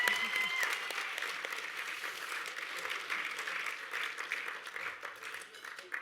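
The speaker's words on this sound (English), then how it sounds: "And a big round of applause for Uncle Pat Farrant Sr." Steady, moderately distant applause from the audience at the Victorian Aboriginal Honour Roll ceremony, a broad wash of clapping that holds evenly for several seconds, with a faint tone at the start.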